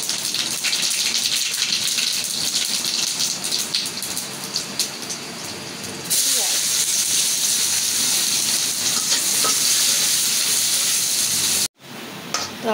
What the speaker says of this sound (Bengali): তো আমার পেঁয়াজ ভাজা হয়ে গেছে।